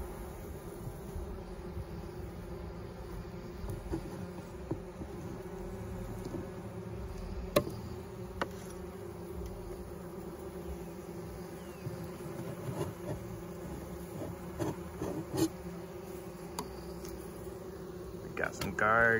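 Honeybees hum steadily in an open hive in the brood chamber while smoke drives them down, a dense continuous drone close by with a few sharp knocks from handling the frames.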